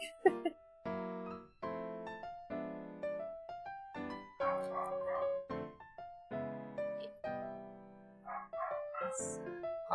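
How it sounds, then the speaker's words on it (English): Dogs indoors let out repeated short, high, yappy barks and yips in quick bursts, some fairly close, with brief pauses between volleys. "If you hear my dogs barking"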